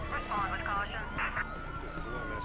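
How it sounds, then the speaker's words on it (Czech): A police car siren in the video game Mafia 3, wailing pitch sweeps rising and falling over engine and road noise, fairly close. "Policejní autíčko, dobrý."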